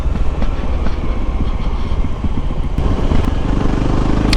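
A Voge 300 Rally motorcycle is ridden on roads and trails, its engine droning steadily and loud up close, with wind rush and a faint rattle throughout.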